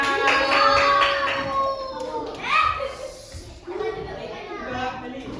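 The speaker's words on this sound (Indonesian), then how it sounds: "Tepuk tangan buat kelompoknya" Pupils in a classroom clap for a group of classmates, a close, busy patter of hands mixed with loud, excited children's voices and shouts that carry on after the clapping fades.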